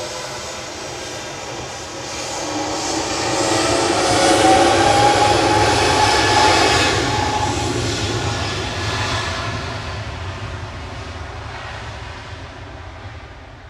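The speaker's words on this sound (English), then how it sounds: "Here's Aegean departing." An Aegean Airlines jet departs Manchester Airport, its broad engine roar swelling to a peak midway and then slowly fading into the distance, heard alone with no talk.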